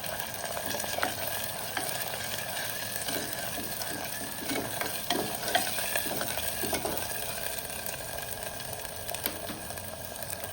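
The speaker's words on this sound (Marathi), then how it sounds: "आता हे काय करायचं मस्त ते परतून घ्यायचं" Crushed green chilli paste sautéing in a pan, a continuous close sizzle broken by repeated scraping and stirring strokes of a spoon against the pan, steady and moderately loud throughout.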